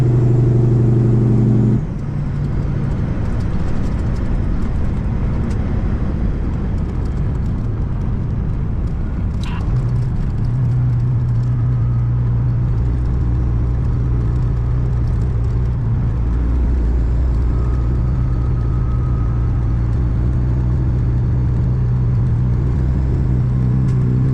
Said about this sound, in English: I'm going to take a second and drive through town